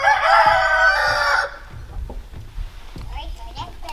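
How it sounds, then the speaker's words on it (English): Chickens cluck and a rooster crows loudly nearby for about a second and a half, followed by quieter scattered clucks and footsteps around a Swedish homestead coop. "Gonna release the chickens."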